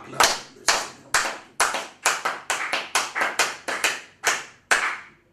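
Church congregation clapping in unison to acclaim the Lord, about a dozen sharp, ringing claps in a steady rhythm that quickens slightly midway, loud and close with no voices over them.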